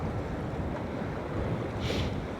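Steady wind roars and buffets the microphone outdoors at Poole Harbour, a constant low rushing with a brief gusty hiss near the end.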